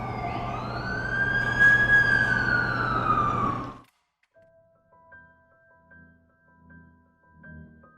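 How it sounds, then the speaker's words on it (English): A loud wailing ambulance siren in a video game rises and falls nearby for several seconds, then cuts off abruptly, leaving faint electronic tones and low rumbles. "That's the ambulance I called."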